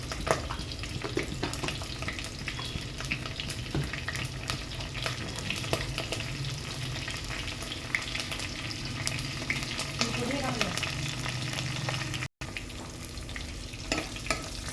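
Cumin seeds crackle and fry in hot oil in a pan for a fish curry, a continuous close sizzle with occasional stirring and light clinks and no voices.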